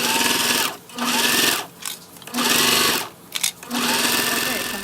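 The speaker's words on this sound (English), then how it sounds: "we're going to go ahead and sew 1/4 of an inch on both sides." A sewing machine stitches a quarter-inch seam through a vinyl bag in four close, loud bursts of rapid mechanical whirring, with brief pauses between the runs.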